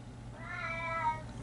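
A cat lets out one drawn-out meow at another cat outside, fairly faint and alone over a low background hum.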